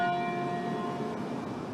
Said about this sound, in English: The sound of church bells ringing echoed from Peachtree Street, down Edgewood, and finally to here on Auburn Avenue.